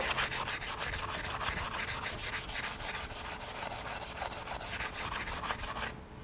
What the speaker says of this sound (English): Now I'll clean the joint in preparation for welding.